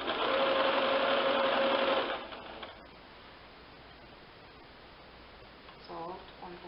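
A sewing machine stitches a cushion cover in a loud, steady whirring run for about two seconds and then stops, followed by quiet handling and a voice briefly at the end.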